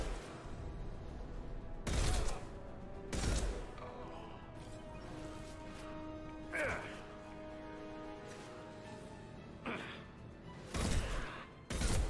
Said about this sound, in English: It's a 3-round burst sniper rifle.